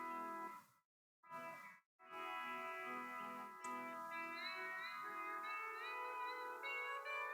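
A pedal steel guitar played on its C6 neck rings out in sustained, shimmering chords with a lush reverb-like wash, close and clear, broken by two brief silent gaps before notes glide upward.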